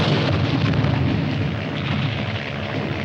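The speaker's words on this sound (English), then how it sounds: "Piper Cup's calling the shots for artillery." Artillery fire explosions in a 1951 war film, a dense continuous roar of booms and rumbling blasts, loud and unbroken for the whole stretch with no voices.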